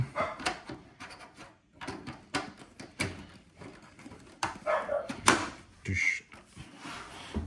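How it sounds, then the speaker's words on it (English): Several dogs bark in short, irregular bursts, some near and some farther off, mixed with clattering knocks from handling the box and parts of a Philips air purifier while it is unpacked and set up indoors. "You guys can obviously hear I have dogs"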